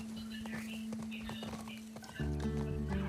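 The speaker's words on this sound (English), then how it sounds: "Why are you traveling by horse?" Horse hooves clip-clopping in The Last of Us Part II, a quick irregular patter of hoofbeats under a low hum, followed by a louder droning tone near the end with faint whispery voices.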